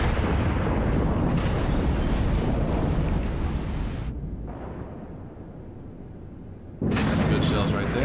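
Tier 9 Iowa battleship guns in World of Warships firing in heavy booming salvos, a loud rumbling blast that fades into a low roar before another thunderous volley erupts.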